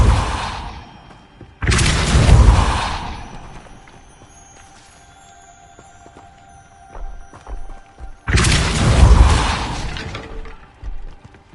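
Depulso spell cast in Hogwarts Legacy, two loud whooshing bursts with an impact, each about a second long and separated by a quieter stretch of faint ambience.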